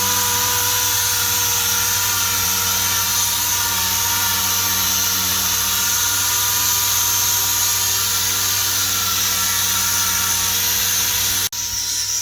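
A power sander works over primer on a Honda CRX body, giving a loud, steady whir that holds without a break for about eleven seconds and then cuts off abruptly near the end.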